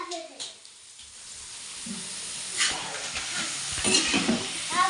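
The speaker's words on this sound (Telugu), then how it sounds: "కలర్ మారే వరకు ఫ్రై చేసుకోవాలి" Pakoda batter sizzles in hot oil with a steady, soft hiss and crackle that rises toward the end, fairly close, while someone talks over it.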